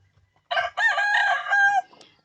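A backyard-farm chicken about 45 days old crows once, loud and close, in a strained, cracking cock-a-doodle-doo lasting over a second in an otherwise quiet yard.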